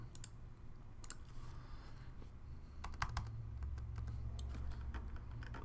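Keys clatter on a computer keyboard as an address is typed in, bursts of clicks coming in irregular runs over a steady low background hum, close and fairly quiet.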